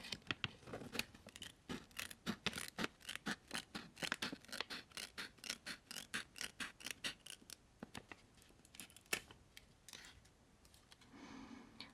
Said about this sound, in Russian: взяла я почему-то маникюрные ножницы